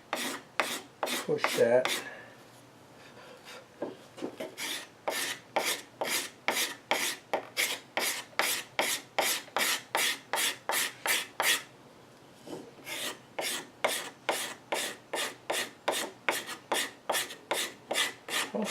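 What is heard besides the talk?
hand scraper shaping wooden legs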